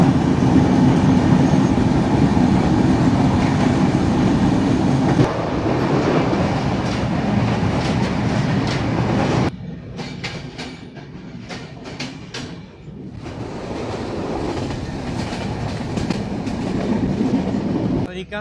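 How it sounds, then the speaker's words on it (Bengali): A train hauled by an American-built 6631 locomotive rumbles loudly and continuously near Bhabanipur railway station, with rhythmic clickety-clack of wheels over rail joints that eases briefly and then builds again. "আমেরিকান জায়ান্ট ৬৬-৩১ লোকোমোটিভ, সম্ভবত নীলসাগর এক্সপ্রেস।"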